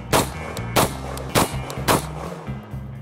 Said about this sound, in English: shot these rounds